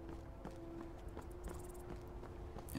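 Steady clip-clop of horse hooves at a walking pace in the video game Skyrim, evenly spaced thuds over a low hum, with faint clattering in between; no speech.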